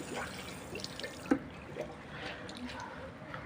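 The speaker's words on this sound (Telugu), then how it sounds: "మనం దీన్ని కడిగేయాలి, ఫుల్గా వాష్ చేయాలి" Running water for washing an infusoria culture, faint and close, with soft trickles and small splashes over a quiet room background, plus one sharper clunk near the middle.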